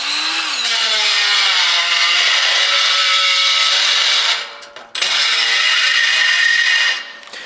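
Milwaukee power drill boring through wood, a loud high whirring grind that runs steadily, cuts out briefly midway, then resumes and winds down at the end.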